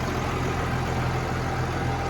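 A New Holland T7315 tractor engine idles with a steady, continuous low rumble close by, and nobody speaks.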